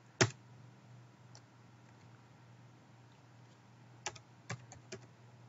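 Keystrokes on a computer keyboard while entering an R command, a sharp click near the start and a few scattered taps later, faint and close over a steady low hum.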